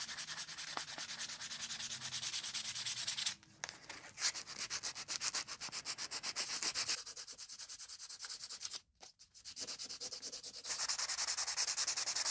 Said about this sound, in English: hand sanding